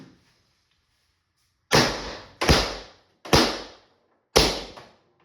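Pistelle X68 CO2 carbine fires four loud, close shots after a quiet moment: three in fairly quick succession, then a short gap before the fourth, each a sharp crack with a brief decaying tail.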